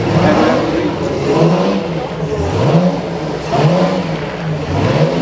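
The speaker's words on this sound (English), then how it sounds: "we get to the last class, the class E, which is racing cars" A vintage racing car engine revs loudly and close at the Concorso d'Eleganza Villa d'Este 2013 parade, its pitch rising and falling in repeated surges, with faint crowd sound underneath.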